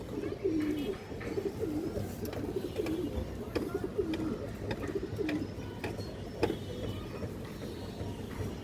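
A fancy pigeon with a purple tag coos in soft repeated phrases over a constant low hum and background chatter, the calls recurring every second or so at moderate distance.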